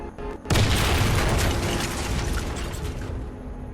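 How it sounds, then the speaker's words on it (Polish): A spectacular vehicle explosion set off by a heavy weapon in the Warface shooter game, erupting abruptly with a loud broadband boom and rumbling debris that fades slowly over a few seconds. "po chwili mamy dość spektakularny wybuch"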